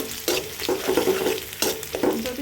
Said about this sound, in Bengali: এই যে লাল শাক রান্নাটা শুরু করে দিয়েছি